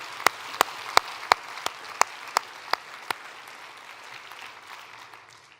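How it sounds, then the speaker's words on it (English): Applause from a conference audience at an environmental plenary session, a dense spread of clapping with distinct sharp claps standing out in the first three seconds, then tapering gradually to a softer patter. "Please give a very warm applause to these three fantastic supporters."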